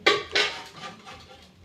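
Spoon turning mango pickle over in a jar, two sharp clinks of metal on glass followed by softer, fading scrapes.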